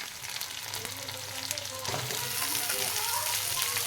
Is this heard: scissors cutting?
no